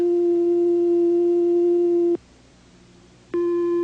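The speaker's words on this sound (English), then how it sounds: "These oscillators produce sound electronically. Each oscillator produces a different kind of sound with a different wave form. This is a sine wave." A steady pure electronic sine wave tone from an oscillator, with a single clean pitch, holds for about two seconds, drops away briefly, then returns at the same pitch.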